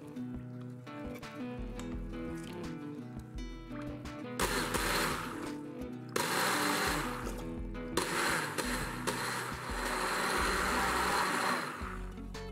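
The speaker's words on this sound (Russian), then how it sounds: "дальше перебиваем блендером до однородности" A kitchen blender beats pancake batter with a pulsing whir. It runs in several loud bursts that swell and stop, close by, over the hum of a machine.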